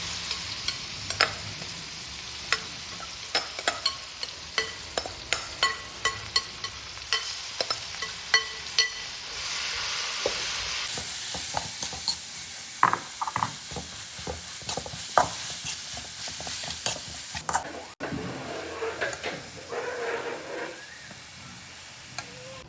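Oil sizzles steadily as onions fry while a utensil stirs and taps against a pan in frequent, irregular clicks, close and continuous.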